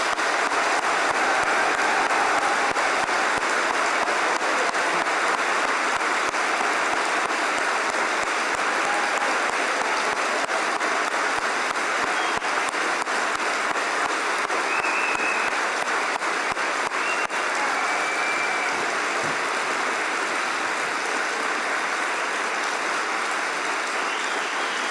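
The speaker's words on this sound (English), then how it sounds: "I would like you to start today by giving all of our graduates a huge round of applause" A large audience at a university degree ceremony gives graduates a long, unbroken round of applause, dense and even clapping that carries on at full strength without talk.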